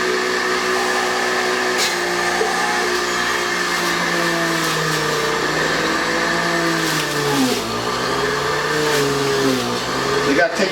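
A juicer grinding pineapple and grapes, a loud steady motor whine that dips and strains as it labors under a load of fruit, continuous and close with no voice heard.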